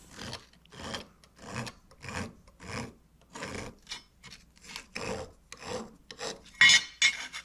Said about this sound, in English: The file is leaving a smoother finish